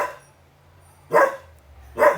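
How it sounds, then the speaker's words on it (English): Dogs bark indoors, two sharp, loud barks about a second apart after a quiet opening with a low hum beneath, and no one speaks. "sorry, I've got dogs"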